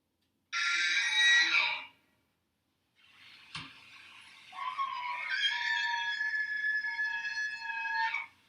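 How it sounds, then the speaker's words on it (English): A bull elk bugling during the rut: a high, whistling call rises and holds, then a second longer squealing call follows after a pause; no one speaks. "I don't know if you've ever heard an elk bugle before during rut."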